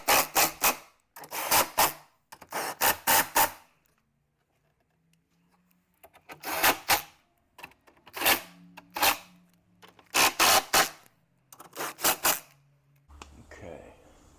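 A hand tool ratchets as bolts are tightened on the driver door of a 2010 Lincoln Navigator during a window regulator replacement, short bursts of clicking repeated in clusters with quiet gaps between them.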